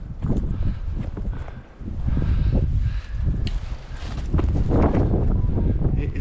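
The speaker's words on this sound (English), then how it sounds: "It is hella windy." Strong wind gusting across a microphone on a hiking trail in Red Rock Canyon, with loud, buffeting low rumbles that rise and fall in surges and lull briefly in the middle.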